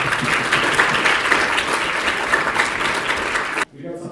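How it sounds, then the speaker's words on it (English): An audience at a hackathon awards ceremony claps in a dense, sustained round of applause that cuts off abruptly near the end. "So let's give everyone a round of applause."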